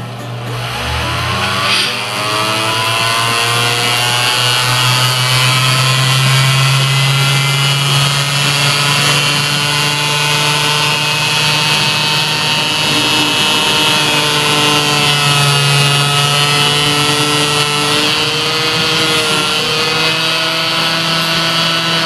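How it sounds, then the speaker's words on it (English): A Dremel rotary tool drills a hole in a metal syrup can for a banjo build, giving a loud, steady, high-pitched motor whine that runs unbroken for over twenty seconds at close range. "what I'm going to do next is use this Dremel tool"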